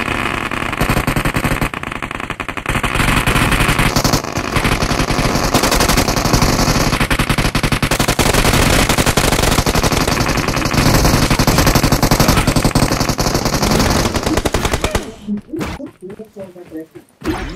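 Loud, sustained automatic gunfire from a multiplayer shooter video game, with dense rapid bursts for about fifteen seconds that then cut off abruptly into quieter game sounds. A player talks over it.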